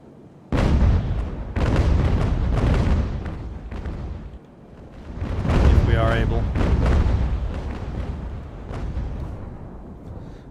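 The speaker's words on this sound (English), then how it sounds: "Fire both broadsides at them as we go through." Age-of-sail warships fire cannon broadsides in Ultimate Admiral: Age of Sail. Loud, overlapping booms roll out in rapid volleys, swell and fade, then rise again in a second barrage.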